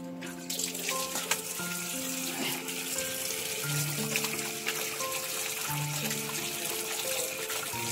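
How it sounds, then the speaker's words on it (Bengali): Tap water runs steadily into a sink while meat is washed under it, a continuous close splashing rush with small shifts as the flow hits the meat and basin. "তাই মাংসটা ধুয়ে নিয়ে আসি।"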